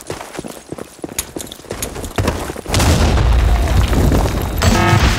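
A grenade blast in the shooter game BlackShot, a heavy booming explosion that swells and rolls on for a couple of seconds after a run of clattering, scattered gunfire-like sounds.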